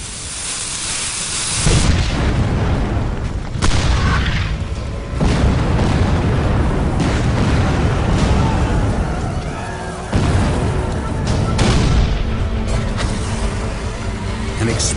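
Heavy booms from 12-pound cannons firing solid iron cannonballs roll out repeatedly, deep and thunderous, each followed by a rumbling decay, like distant artillery firing in a sustained barrage.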